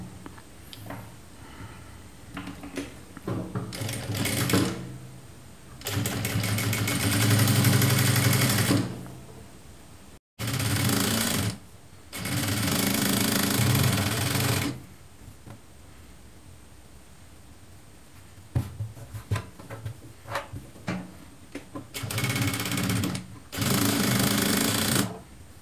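Sewing machine stitching a straight-cut blouse cup, running in several long loud bursts of steady whirring separated by pauses, with handling rustle between runs.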